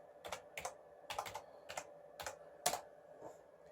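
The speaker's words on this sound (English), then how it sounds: "So if I type in CSGO gameplay" Quiet bursts of key clicks from a computer keyboard, typed in short irregular groups with brief pauses between them.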